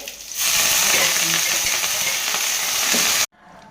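Ponnaganti greens fry in hot oil with dried red chillies, green chillies and onions, giving a loud, steady, close sizzle that runs for about three seconds and then cuts off abruptly.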